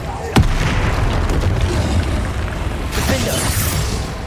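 Spell impacts and magical blasts boom in rapid succession during Hogwarts Legacy combat, a sharp burst near the start followed by dense, rumbling layered effects and crackling bursts.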